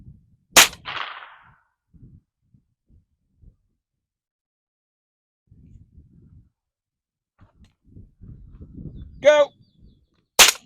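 Suppressed shots from a direct blowback rifle fitted with a Yankee Hill N2O suppressor, two sharp close reports about ten seconds apart, with a brief spoken command and quiet handling noise between them.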